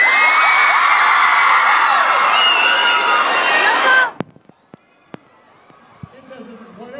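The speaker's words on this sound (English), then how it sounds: "You guys screamed because she said green." A live talk-show studio audience screams and cheers loudly for about four seconds, a dense wall of high-pitched whoops that cuts off abruptly, leaving a quiet room with a few sharp knocks.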